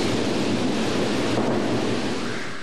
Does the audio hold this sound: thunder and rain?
yes